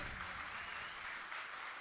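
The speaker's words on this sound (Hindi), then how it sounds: "एक बार तालियां बजाइए" Applause from a mushaira audience in a hall, a steady dense wash of clapping that holds for the whole stretch at moderate level with no break.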